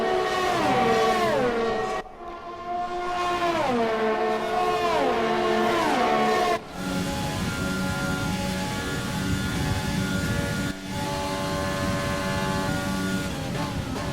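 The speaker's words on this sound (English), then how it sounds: "Look at that racing car." Onboard sound of an F1 car engine in the F1 2020 racing game at the Belgian Grand Prix, screaming loudly through repeated upshifts and downshifts, with brief drops at each gearchange and a sustained high whine.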